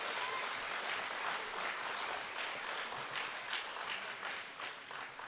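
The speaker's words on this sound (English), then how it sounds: "So round of applause for Mr." Audience at a school sports banquet clapping for an honoree, a sustained patter of many hands heard from some distance, fairly soft and tapering slightly toward the end.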